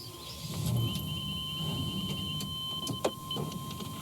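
A powered body jack raises the tongue of an Airstream caravan with a steady electric motor whine that holds a constant pitch throughout, close and moderate, with a faint knock near the end.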